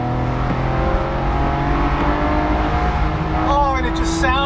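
Engine of a 2016 Porsche 911 GT3 RS with PDK transmission, heard from inside while driving on a wet track, a loud steady drone with rising revs toward the end.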